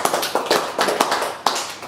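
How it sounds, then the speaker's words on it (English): Short burst of audience applause for a quiz show contestant, a handful of crisp, fairly close claps in uneven rhythm. "give McP a 10-point round of applause"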